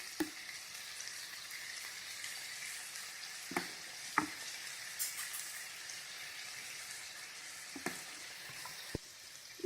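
Chilli chicken frying in a pan with soy sauce added, a low steady sizzle with a few sharp clinks and stirring knocks of a utensil scattered through, fairly quiet and without talk.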